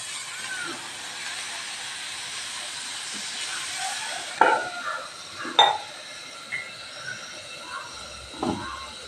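Steady hiss of steam from a covered pot of dried fish cooking, with a few sharp clinks and taps over the constant hiss.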